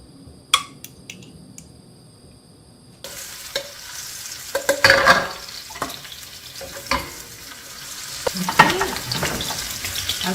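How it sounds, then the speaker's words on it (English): Sliced garlic hits hot green onion oil in a wok or pan for King Oyster mushrooms, a few sharp clinks first, then a steady loud sizzle with intermittent stirring scrapes and crackle bursts, no talk. "I'm going to add some sliced garlic."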